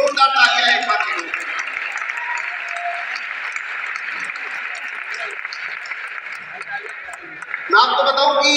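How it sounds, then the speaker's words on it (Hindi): Loud, sustained applause from a large seated audience of YouTube creators, a dense wash of clapping that holds steady for several seconds, with voices and cheering swelling at the start and end. "एक बार उन लोगों के लिए जोरदार तालियां जो आपके आसपास बैठे हैं"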